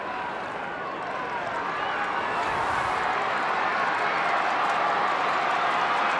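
Broadband roar of a large football crowd at an AFL match between Adelaide and Richmond, a steady wash of cheering and noise that swells slightly toward the end, loud and continuous throughout.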